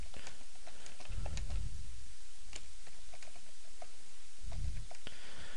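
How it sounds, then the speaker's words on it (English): Fingers tap a computer keyboard in quick, light clicks while a website is being built, close and steady with a few louder thumps, no voices. "just typing stuff in"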